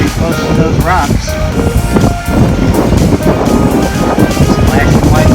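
White water splashes and surges near rocks as a sailboat passes through the Knysna Heads in South Africa, a dense, continuous wash of water and wind noise close to the microphone.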